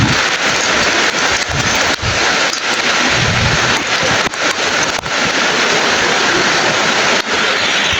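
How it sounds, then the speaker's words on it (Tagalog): Heavy rain pours down steadily and loudly in a dense, continuous roar while travelling, with a few brief dips and thuds breaking the wash, and no voices. "Sobrang lakas talaga ng ulan mga tol."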